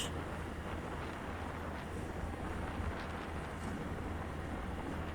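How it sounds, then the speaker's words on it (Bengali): Wind and surf roar steadily at Kuakata beach, a broad unbroken rush of air and breaking waves buffeting the microphone, with no voices over it. "সমুদ্রের গর্জন শোনা যায়"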